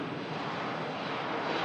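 Airliner on its arrival from Alicante, heard as a broad, steady, distant engine roar with some wind buffeting, holding level throughout and swelling slightly at the end, with no voices.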